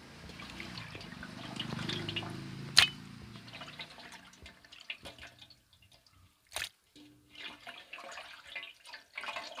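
Washed beef pieces lifted out of a bowl of water for a Thalassery-style beef dum biryani, with splashing and dripping that fades into scattered small drips and clinks, close and fairly quiet, no talk.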